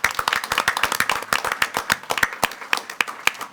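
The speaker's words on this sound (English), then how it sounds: "Let's give him a round of applause," Audience at a school board meeting claps in a steady, dense round of applause, many hands close and loud for the whole stretch with no talk over it.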